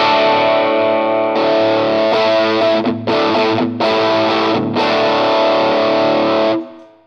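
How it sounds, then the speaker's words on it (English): A Greenchild Tribus Drive distortion pedal gives a heavily distorted electric guitar playing sustained chords with a few brief breaks, loud and close, then ringing out and stopping. "turn off the overdrive pedal and then turn on the distortion pedal"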